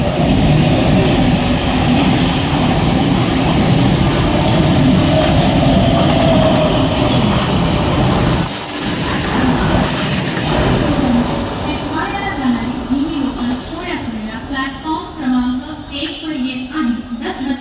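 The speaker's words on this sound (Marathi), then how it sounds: "Fast local for Bandapur is arriving shortly on platform number 3." A Mumbai fast local train on the Central line pulls into a station platform, a loud steady rail rumble and rising wheel noise filling the clip, with voices and platform announcements mixed in toward the end.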